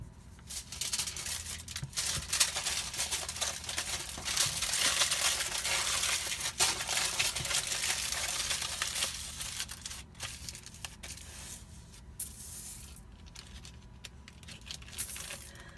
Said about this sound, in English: If you want to reheat a biscuit, you wrap it in aluminum foil.